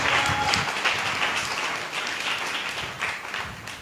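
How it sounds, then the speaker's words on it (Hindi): Audience applause from a church congregation, dense steady hand clapping filling the room for several seconds at a fairly loud, even level. "ताली बजाओ।"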